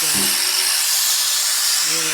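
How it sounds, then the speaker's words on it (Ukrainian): An angle grinder with a small cutting disc runs on parts of a Candy washing machine, giving a loud, steady, high hissing whine, with a voice briefly at the start and end. "якщо ми візьмемо болгарку, візьмемо болгарку з таким маленьким кругом"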